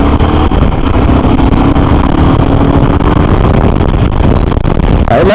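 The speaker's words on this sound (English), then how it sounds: "There is a mechanical feel to the engine." A Royal Enfield Himalayan 452 motorcycle engine drones steadily at highway speed under heavy wind rush, loud and continuous throughout.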